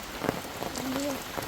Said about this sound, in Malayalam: മഴ തന്നെ മഴ പെയ്യുന്നുണ്ട്.